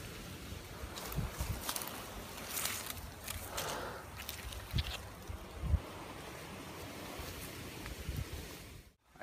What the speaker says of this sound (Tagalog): Talagang malakas na yung hangin, no?